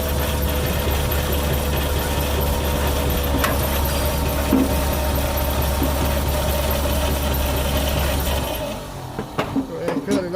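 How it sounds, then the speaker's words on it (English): A 1950 Mercury left abandoned for more than 35 years cranks on its starter with a sustained, loud mechanical whir and drone. The cranking cuts off near the end, leaving a few faint knocks. "You can hear the starter winding"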